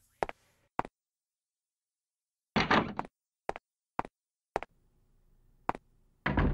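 In the Clock Tower 2 video game, a back door is unlocked and opened with a key, heard as a series of sharp clicks and thuds, a heavier clunk of the door, and a final louder burst of door noise.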